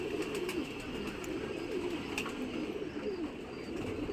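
Pigeons, including black diamond birds, cooing in a loft, repeated soft throaty coos rising and falling close by over a faint background hiss, without speech.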